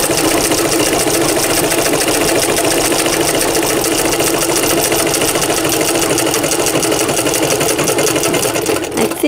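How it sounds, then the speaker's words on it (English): A treadle sewing machine, a small rose-decorated model, stitching a Butterick 6900 caftan, giving a steady, even, continuous mechanical whir and rapid ticking throughout, close up and alone. "one last little look at my little rose machine here as I finish up sewing"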